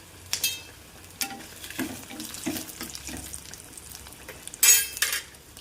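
Curry leaves and dry red chillies dropped into hot oil for tomato pickle on a gas stove, sizzling and crackling with scattered stirring clinks, followed by a sharp hissing burst near the end.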